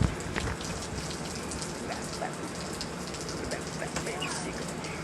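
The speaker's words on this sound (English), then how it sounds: "It's raining. It's raining everywhere." Steady rain falls outdoors near seagulls, making a dense close hiss with scattered drop patters throughout, and a voice murmurs faintly underneath.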